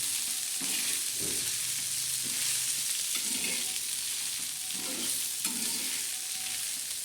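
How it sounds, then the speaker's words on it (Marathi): Poha sautéing on a hot tawa, with a soft continuous sizzle and intermittent scraping strokes of a spatula stirring the flattened rice, close and fairly quiet. "असे चांगले असे चांगले परतून घ्यायचे"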